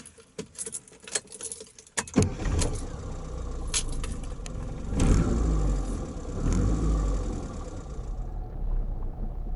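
Keys jangle briefly before a 30th Anniversary Rover Austin Mini starts up, and its small engine then runs and revs steadily, close and fairly loud, with no talking.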